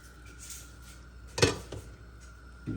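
A frying pan with oil set down on a kitchen stove while cooking a meat dish, giving one sharp metallic clatter with a smaller knock after it, close and alone against quiet room noise.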